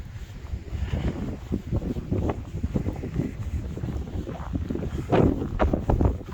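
Cold wind blowing along a snowy, plowed street in Iceland, a steady loud rumbling buffet against the microphone with gusts throughout.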